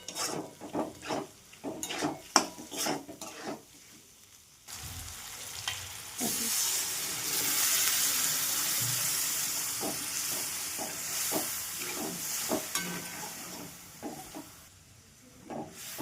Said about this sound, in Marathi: मिक्सरचे धुवून भांडे टाकणार आहे आपण पाणी